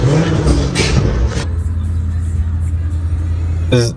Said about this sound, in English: The truck sounds badass